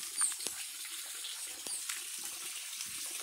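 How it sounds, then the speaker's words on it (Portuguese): A small waterfall on a stream near a reservoir pours steadily, a continuous close splashing wash of running water with a few brief louder splashes, and no voices. "Nessa cachoeirinha que tem aqui."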